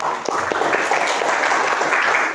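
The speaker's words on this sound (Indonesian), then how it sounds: "kita beri aplaus untuk kelompok 2" Classroom applause for a student group, steady and fairly loud clapping from many hands filling the room for a couple of seconds.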